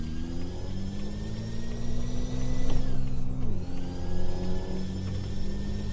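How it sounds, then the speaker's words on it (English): Turbo whine from a truck in Euro Truck Simulator 2 pulling a subway car: a steady, close engine drone with layered high whistling tones that rise, dip briefly, then settle back, continuous throughout with no talk. "So much turbo whine."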